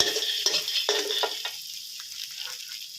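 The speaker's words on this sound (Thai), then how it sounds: "จากนั้นก็เติมน้ำตาลไปนิดนึง น้ำตาลทรายไปนิดนึงนะครับ คั่วคั่วคั่วไปเลยนะครับ" Kale with salted fish and minced pork is stir-fried in a dry pan with a little sugar, giving a close sizzle broken by several scraping strokes of the spatula that fade toward quiet.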